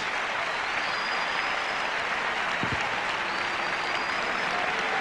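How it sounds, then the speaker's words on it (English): Crowd applause at the 1989 US Open tennis semifinal, steady dense clapping filling the stadium throughout, with a brief low thump partway through. "A great round of applause from the crowd here today."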